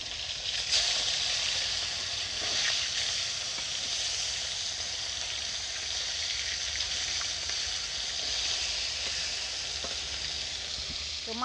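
Rohu fish fries in oil in a kadai until reddish-brown, producing a close, steady sizzle with scattered spits and crackles. The frying runs alone without voices.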